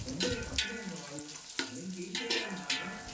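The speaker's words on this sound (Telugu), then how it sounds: "ఇప్పుడు ఉల్లిపాయలు వేగిన తర్వాత కట్ చేసి పెట్టుకున్న టమాటాలు కూడా వేసి వేయించుకోవాలి." Chopped tomatoes and fried onions sizzle in a pan for chicken biryani, with a continuous close crackle broken by several sharp stirring scrapes.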